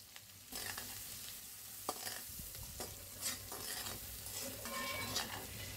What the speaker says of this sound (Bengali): আমি এখন এই তেলেই পেঁয়াজটা দিয়ে দিব।